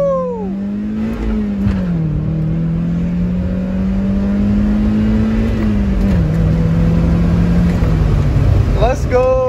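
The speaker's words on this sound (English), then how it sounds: "All right, so first driving test with the new shifter rebuild." A 1999 Mazda Miata NB with a freshly rebuilt shifter and new fluids drives along, its engine droning and rising through the gears with a few shift dips, heard from inside the car. No one speaks.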